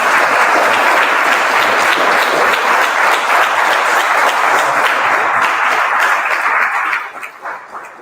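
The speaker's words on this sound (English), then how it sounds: "Please, let's give him another round of applause." Loud, sustained audience applause at a Father's Day pledge event held by a county family services department, steady dense clapping that thins and fades out near the end.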